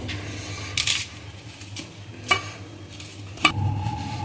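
A spoon mixing flour, coriander powder, turmeric, Kashmiri red chilli powder and salt into a chilli stuffing for bharwa mirchi, with soft scraping and a few sharp taps against the bowl, close up and without speech.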